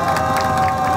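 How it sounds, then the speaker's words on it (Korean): A crowd at an outdoor housing protest rally in front of Bosingak applauds and cheers in a brief, loud burst of clapping and shouts. "박수 한번 부탁드리겠습니다."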